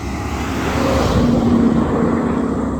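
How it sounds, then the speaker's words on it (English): A trash truck rolls by on a rural road, a broad, steady engine and tire roar that swells slightly midway and stays loud throughout with no one speaking. "Trash truck."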